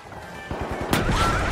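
A frag grenade going off in a video game, a sudden loud burst with a crashing tail near the middle, set among close thuds and impacts and continuing chaotic game noise.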